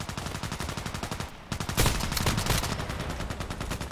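Rapid, steady gunfire rattles without letup in an SVD-S sniper video game, a dense stream of shots interrupted by a brief lull before a louder, closer burst resumes and continues to the end.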